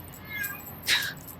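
A cat gives a single short, rising meow at close range, standing out above a soft, steady background.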